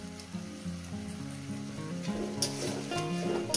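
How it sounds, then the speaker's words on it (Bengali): Spice paste sizzles steadily in a pan while it is sautéed for a couple of minutes, a continuous frying hiss under melodic background music. "মশলাটাকে 2 মিনিট কষিয়ে নেব"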